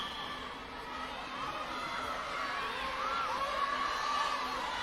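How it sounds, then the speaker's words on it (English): Netball crowd at a women's Southeast Asian Games preliminary match, Singapore against Brunei, a steady indoor din of cheering and shouting voices urging Brunei on, moderately loud and continuous with a few whoops rising above the hubbub. "The crowd urging for Brunei to chuck the ball in with 5 seconds remaining."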